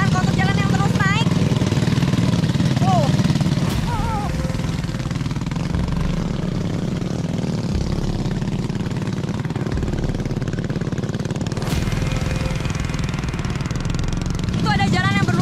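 A new motorcycle labours up a steep, muddy hill road that keeps climbing, its engine droning steadily under someone talking, with occasional bird calls and faint chirps in the background.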